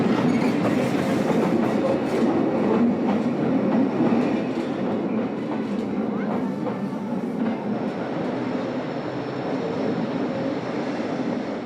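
Rhaetian Railway Bernina Express train rolling across a stone viaduct in the Alps toward a tunnel in a rock wall, a loud continuous rumble with wheel clatter, steady and close throughout, easing slightly toward the end.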